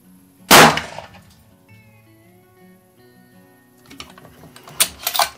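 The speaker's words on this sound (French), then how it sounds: "on se retrouve pour une deuxième balle et normalement ça va taper dans le centre" A single sharp rifle shot cracks out nearby while a PARD scope is being zeroed on a target, followed by quieter faint clicks and handling noises a few seconds later.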